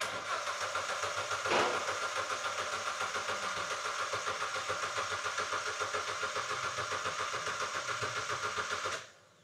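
A car engine, an Ecotec unit just rebuilt with a new timing chain, cranks over steadily on the starter with a fast rhythmic churn for about nine seconds before cutting off; no voices.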